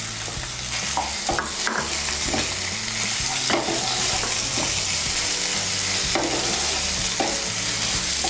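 Chopped medium tomato frying in a pan with onion and ginger-garlic paste, a steady close sizzle broken by repeated scraping stirs of a spatula, continuous throughout with no voices.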